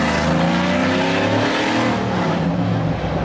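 A Z71 Silverado truck fitted with long tube headers accelerates, its engine note loud and continuous with a rising drone throughout, no talking.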